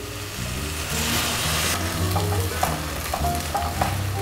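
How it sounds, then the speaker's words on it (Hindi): Beetroot sabudana khichdi sizzles and fries steadily in a pan as a little water goes in, with some clinks of a spoon stirring against the pan, close and fairly loud throughout. "अब हम इसमें डालेंगे हल्का सा पानी कुक करने के लिए"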